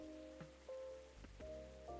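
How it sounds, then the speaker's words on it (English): Soft rainfall in the cozy café video game Coffee Talk, a faint steady patter on surfaces beneath quiet sustained music tones, with no talking. "That's just the rain."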